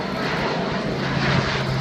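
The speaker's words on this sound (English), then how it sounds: "This particular aircraft airborne is making its third public display at Farnborough." New-generation military airlift aircraft, in service with the French Air Force, flying a display at the 2014 Farnborough International Air Show: a loud, steady engine and propeller roar that swells slightly toward the end, with no voices.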